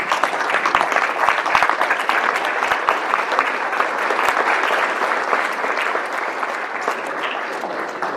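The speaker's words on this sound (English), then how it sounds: "I can ask that we please give them a round of applause" A standing audience at a town's State of the Town address gives sustained applause, many hands clapping in a dense, continuous roar that stays strong throughout and eases slightly toward the end.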